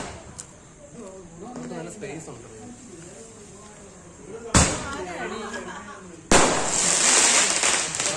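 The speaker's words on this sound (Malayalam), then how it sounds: "അന്ന് വൈകിട്ട് ഞങ്ങൾ കുറച്ച് പടക്കമൊക്കെ പൊട്ടിച്ചു. അതിൻ്റെ കുറച്ച് വീഡിയോസൊക്കെയാണിത്." Firecrackers burst in two sharp, loud cracks during an evening Onam celebration, each followed by a hissing crackle, while people talk throughout.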